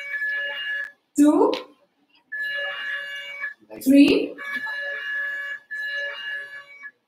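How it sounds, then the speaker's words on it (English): Quiz contestant buzzers are tested table by table at a school spell bee, each one letting out a loud, steady electronic tone lasting about a second, separated by short gaps where a voice calls out the table numbers. "We'll quickly check the buzzer."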